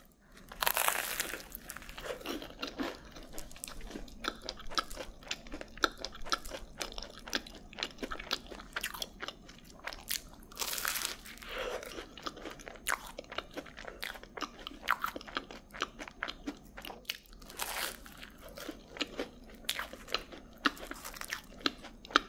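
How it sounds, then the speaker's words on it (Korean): Cream croissants with an iced americano being eaten up close, with crisp crunchy bites, crinkling, and soft wet chewing repeating in an irregular rhythm, quiet and intimate with no talking. "오늘은 시간을 들이다에서 구입한 5가지 종류의 크림 크루아상이랑 아이스 아메리카노 먹어볼게요."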